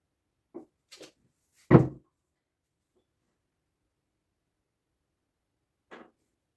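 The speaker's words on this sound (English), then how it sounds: "Give it a few knocks." A few gentle knocks on a plaster slip-casting mould, three brief soft taps followed by one louder, fuller knock, then a pause and a single quieter tap near the end, each isolated against silence.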